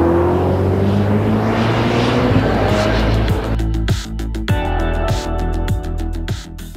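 A Ferrari SF90 XX Stradale on a race track during a record time attack: a loud, steady engine roar that shifts into a harsh, rapidly pulsing note with repeated gear changes as the car pushes on.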